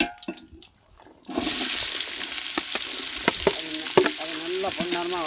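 Onions, cinnamon, cloves and curry leaves hit hot oil in a pan and burst into a loud, steady sizzle, with sharp crackles and pops scattered through the frying and no one speaking.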